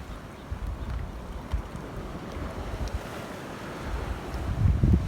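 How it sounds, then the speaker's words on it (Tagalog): Ocean waves surge and break on the shore at Yolanda Beach in Salcedo, Eastern Samar, making a steady, continuous roar with wind buffeting the microphone and a heavier swell building near the end. "Ang lakas ng hampas ng alon."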